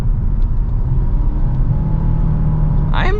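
A 2023 Nissan Altima 2.5 SR AWD pulls ahead under throttle through a slight turn, with a steady, loud engine and road rumble heard from inside the cabin and a brief rising whine near the end.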